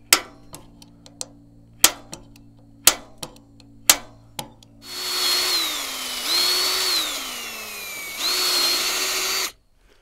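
Several sharp metallic taps of a punch marking a jon boat ring out, then a power drill whines up, its motor pitch dipping and rising as it bores in before stopping abruptly.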